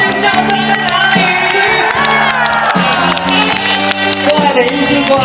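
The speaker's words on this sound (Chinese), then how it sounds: "尖叫声在哪里？" A large outdoor concert crowd at a show in Taitung screams and cheers loudly and continuously, whoops rising over sustained music with steady band notes underneath.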